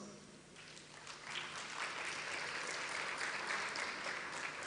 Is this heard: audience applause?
yes